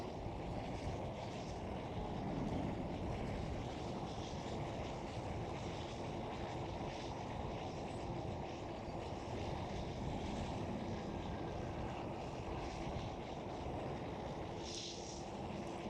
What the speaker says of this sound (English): A 4-engined aircraft.